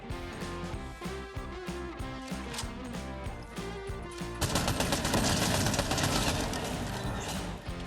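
Video game gunfire triggered with a computer mouse: rapid automatic bursts crackle in quick rhythmic volleys, then a denser, louder sustained stream of shots with no talking.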